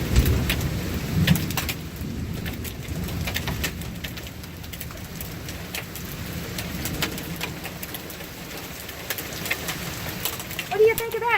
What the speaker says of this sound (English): Okay, we're getting hail.